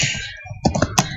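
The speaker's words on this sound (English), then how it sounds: "if I start typing" Several quick keystrokes on a computer keyboard give a short, close burst of clicky taps after a brief lull.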